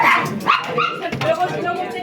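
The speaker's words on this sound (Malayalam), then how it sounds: "പെട്ടെന്നാണ് അവിടുത്തെ നിശബ്ദതയെ കീറി മുറിച്ചുകൊണ്ട് ഒരു പറ്റം പട്ടിക്കുട്ടികൾ കയറി വന്നത്." A group of puppies yips and barks in quick, high-pitched bursts during a walking tour near Avila Cathedral in Spain, close by and fairly loud, with voices mixed in.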